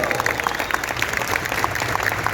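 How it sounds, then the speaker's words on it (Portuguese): Steady applause from a convention panel audience at Anime Friends 2025 in Brazil, a dense patter of many hands clapping together, moderately loud and sustained without a break. "A salva de palmas para ele."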